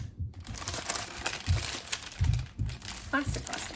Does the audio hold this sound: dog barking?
no